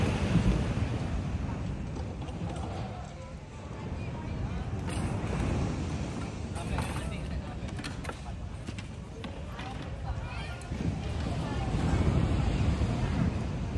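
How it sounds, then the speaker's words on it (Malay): Continuous roar of ocean waves on the Narathiwat, Thailand coast mixed with gusty wind noise before rain, rising and falling in loudness throughout. "Ombak pun kuat ni."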